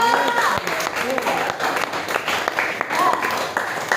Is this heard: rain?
no